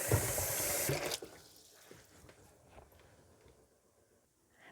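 Apples being washed under a running kitchen tap: a loud gush of water for about a second, then the flow stops and is followed by quieter splashes, drips and handling sounds.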